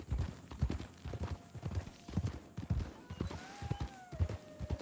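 Horse hooves clip-clopping at a steady walking pace in the Red Dead video game near Blackwater, rhythmic and moderately close, with faint voices and a soft tonal sound partway through.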